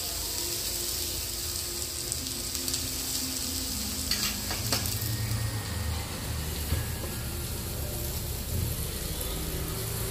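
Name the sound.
thalipeeth frying in oil on a pan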